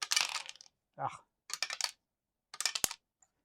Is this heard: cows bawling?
no